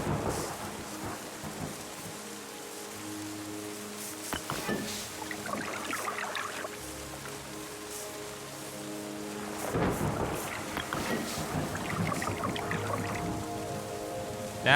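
Rain falls steadily in the video game Terra Nil while thunder rolls and rumbles in several long swells, over soft ambient tones.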